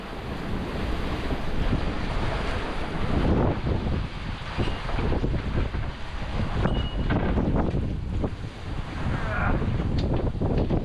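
Heavy waves and strong wind of about 20 to 30 knots aboard a sailboat at sea, a continuous loud roar of wind on the microphone and rushing water with surging swells throughout.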